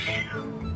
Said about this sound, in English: that is a cat in the background